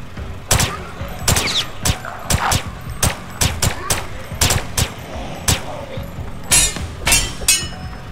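MP5 submachine gun fire in the video game The Last Stand Aftermath, a series of loud sharp shots in short bursts and single cracks with brief gaps between them.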